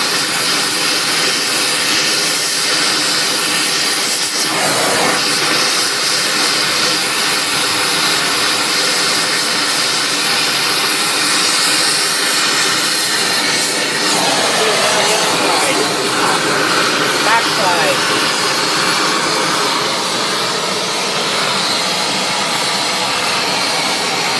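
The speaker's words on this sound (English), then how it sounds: "Get it pretty warm. Pull the torch away and keep it red." A roaring torch flame heats an axle perch red hot in a workshop, a loud, continuous hiss and rush that barely changes throughout.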